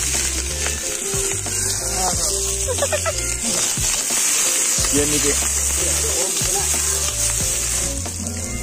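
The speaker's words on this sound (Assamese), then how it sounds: "এয়া আমাৰ পিয়াজ গল কেৰাহীত" Onions frying in a kadai give a steady, close sizzle with stirring and scraping running throughout, while a person talks over it and background music plays.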